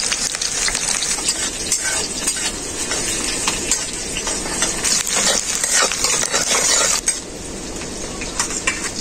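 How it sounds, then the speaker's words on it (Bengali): Chopped onion and black cumin seeds frying in hot mustard oil, a steady close sizzle and crackle running throughout with occasional scraping and stirring clicks of a utensil in the pan, no voices. "তেলটা খুব ভালোভাবে গরম হয়ে গেছে, তেলের মধ্যে দিয়ে দেবো কেটে রাখা পেঁয়াজ"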